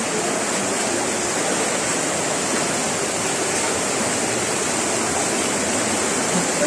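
Water from the Madlum River rushes continuously in a dense, even wash, loud and close like a small waterfall or fast stream, with no talking over it.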